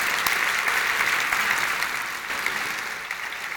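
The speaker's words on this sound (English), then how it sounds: "please give her a round of applause" Steady, dense applause from an audience at an evening talk greets Abigail, filling the room evenly and loudly for several seconds before easing slightly toward the end.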